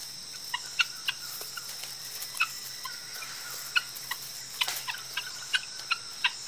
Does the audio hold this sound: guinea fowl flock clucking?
yes